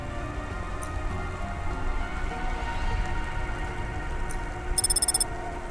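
Steady rain falls in a rainy city street outside a restaurant in the Cloudpunk video game, a continuous soft hiss with a brief electronic chime near the end.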